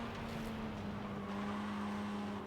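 Stock-engine car driven in the Forza Horizon 5 racing game, a steady droning engine note holding a constant pitch throughout, loud and continuous with no talk.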